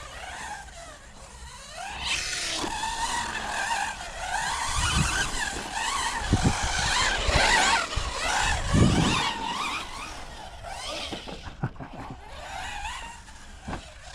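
A Hobao Hyper 10 SC 2.0 short-course RC car on a 2S battery runs on a carpet track, its electric motor whining up and down in pitch with tyre scuffs and bumps as it passes close and drifts away.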